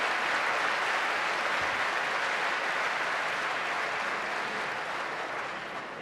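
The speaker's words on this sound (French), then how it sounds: "On va d'abord l'applaudir," An audience applauds a world Scrabble champion, dense and loud continuous clapping that fills the whole stretch and tapers slightly near the end.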